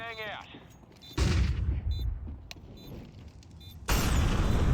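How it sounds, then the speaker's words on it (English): A flashbang grenade going off in the video game Counter-Strike on the Overpass map, with two loud bursts of blast and crackling noise separated by quieter game sounds and faint metallic clicks. "Flashbang out."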